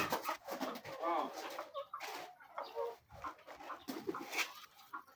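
Poultry on a deep litter farm, with chickens clucking and pigeons cooing in short, overlapping bursts that are faint and somewhat distant, without anyone speaking over them.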